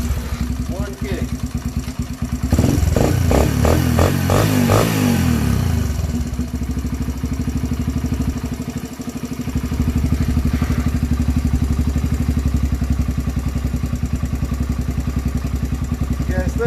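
Cold Yamaha TTR125 dirt bike fitted with a VM24 carburetor, kick-started and coming to life with a loud burst of revving, then settling into a steady, rapid single-cylinder idle that swells again toward the end.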